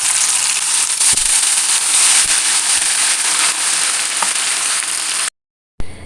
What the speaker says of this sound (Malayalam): ബാക്കിയുള്ള മീനും കൂടി നമുക്ക് ഇതേപോലെ വറുത്തെടുക്കാം